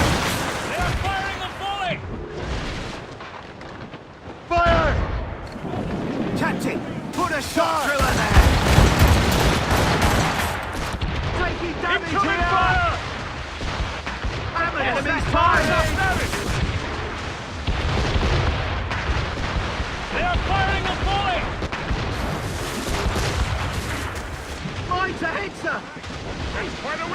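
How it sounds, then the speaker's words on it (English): Naval cannon volleys in the video game Assassin's Creed Rogue, with loud repeated booming shots and crackling fire mixed with shouted crew voices and game music throughout the battle. "They are firing a volley!"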